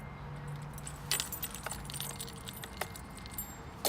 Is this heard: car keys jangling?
yes